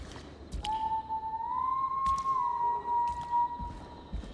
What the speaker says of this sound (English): That's someone whistling in a really creepy way.